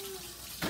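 Water running from a tap while glue is washed off fingers, a soft steady rush with a brief tonal hum early on, then a louder gush of splashing near the end; no one speaks.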